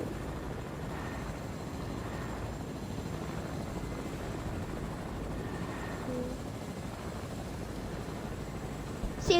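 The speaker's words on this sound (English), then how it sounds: "There's a chopper down there." Helicopter in a video game, a steady whirring rotor drone that stays at an even, moderate level throughout with no talk.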